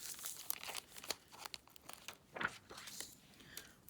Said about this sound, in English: We're going to cut out all these wing pieces.